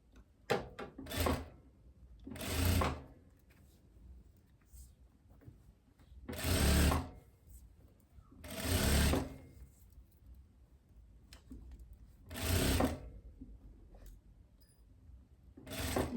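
Sewing machine stitching the shoulder seam of a long dress with puffed sleeves: short, loud whirring bursts of rapid stitching, about six spread over the span, with quiet handling and pauses between them.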